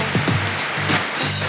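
Heavy rain pours down in a dense, continuous hiss, steady and close with no voices over it.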